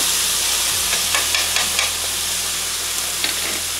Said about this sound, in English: Then I'm going to continue to saute this some more.